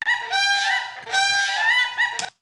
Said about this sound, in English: A whooping crane.